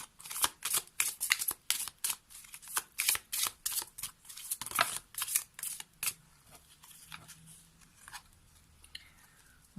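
Tarot or oracle cards shuffled by hand in a quick run of crisp riffling bursts that fade into a few scattered card slaps and soft handling noises, close and alone with no talk.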